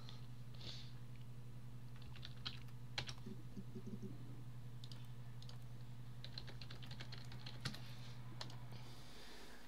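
Keyboard typing of a search term in the Her Story video game, a quick run of soft clicking keystrokes close up over a steady low electrical hum, with no talking.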